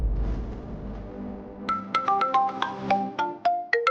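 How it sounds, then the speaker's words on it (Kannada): A phone rings with an incoming call, a melodic ringtone of bright plucked notes stepping in a quick tune, clear and fairly close after a low murmur at the start. "ರೀ ವೆಂಕಿ ಫೋನ್ ಮಾಡ್ತಾ ಇದ್ದಾನೆ."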